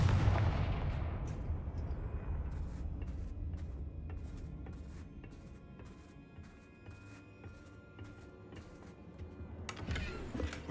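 A Confringo fire spell from the Hogwarts Legacy video game bursts with a heavy explosive blast at the start, then leaves a long, decaying rumble broken by crackling snaps, with a second burst near the end.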